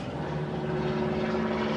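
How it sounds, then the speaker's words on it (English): A propeller airplane passes overhead somewhere above the Hollywood Hills, its steady droning hum with a constant engine tone filling the whole stretch at moderate loudness, with no talking. "This is like the sixth plane during your interview."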